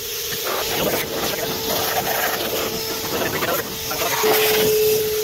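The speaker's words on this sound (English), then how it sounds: "we're using the blower end of this vacuum to clean out this machine" DeWalt 9-gallon wet/dry vacuum used as a blower to clean lint out of a machine, giving a continuous airy whine and hiss with a steady tone, close and fairly loud, with slight shifts as the airflow moves.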